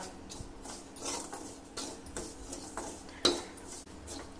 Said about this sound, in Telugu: చెయ్యి ఆడిస్తూ ఉండాల, లేదంటే మాడిపోతుంది రవ్వ.